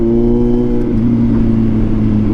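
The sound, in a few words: Kawasaki Z900 motorcycle exhaust revving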